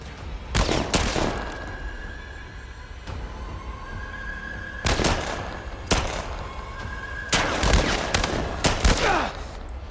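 Gunfire in The Last of Us Part 1 comes in several sharp, loud bursts of rapid shots spread across a tense firefight, with quieter ambience between the volleys.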